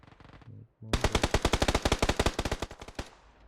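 After a brief pause, a long rapid burst of automatic gunfire in the video game PUBG rattles out loud and evenly, shot after shot for about two seconds.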